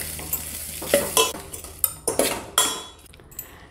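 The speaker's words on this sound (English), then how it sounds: "give it all a good stir" A spoon stirs cooked rice with salt in a pan, giving a series of scraping clinks roughly every half second over a faint sizzle, close and distinct.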